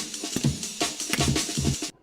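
Chopped slices of a drum rack sample loop retrigger in quick succession, each hit starting before the last has decayed so the tails overlap into a dense, choppy stutter, close and steady before cutting off abruptly.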